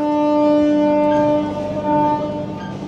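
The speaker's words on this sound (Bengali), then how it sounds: "ট্রেন আমাদের রামনগর স্টেশন ছেড়ে বেরোচ্ছে।" The 12857 Tamralipta Express pulls out of Ramnagar station, its horn sounding as long steady tones over a loud rolling rumble of wheels and carriages, close by and continuous.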